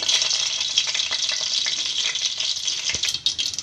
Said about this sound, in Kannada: ಈಗ ಸಾಸಿವೆ ಹಾಕ್ತಾ ಇದ್ದೀನಿ